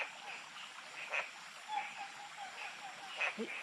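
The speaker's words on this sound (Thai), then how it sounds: "น่าจะกบ" Frogs croak at night beside a forest stream, with several short croaks scattered across a quiet background, moderately faint and fairly close.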